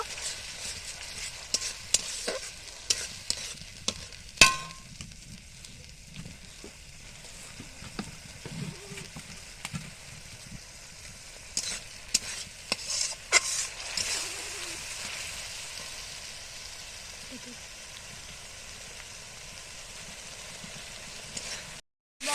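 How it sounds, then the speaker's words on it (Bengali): Spice paste for biryani sautés in a pan, making a soft, continuous sizzle broken by intermittent scraping strokes as it is stirred, fairly quiet and without speech. "এবার মশলাটা কিছুক্ষণ কষিয়ে নেব"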